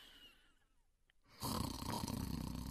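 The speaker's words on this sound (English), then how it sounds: "She can hear her father. He is snoring in his bedroom." A man snores in his bedroom as a story sound effect: a hushed, near-silent room gives way to a loud, rough snore that starts partway through and carries on to the end.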